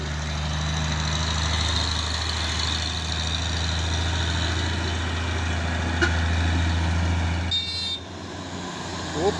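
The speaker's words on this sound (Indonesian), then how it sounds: "Truk tangki 6x4 tadi, bos." A 6x4 tanker truck engine idles and rumbles with a deep, steady drone, loud and close, on a road where a trailer truck creeps uphill; a brief tonal burst like a horn sounds near the end before the engine tone drops.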